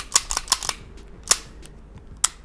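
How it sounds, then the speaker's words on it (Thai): A SIG P220 pistol being unloaded after firing: a quick cluster of sharp metallic clicks and clacks as the magazine is released and the gun cleared, then two isolated snaps, close up with no talking. "ยิงจบ ปลดแมกกาซีน เคลียปืน"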